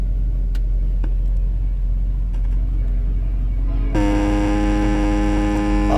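A 1986 Chevy C10 pickup is started with no need to pump the gas. Steady low rumble comes first, then a sudden tonal whine or chime joins at about four seconds and holds to the end, loud and close.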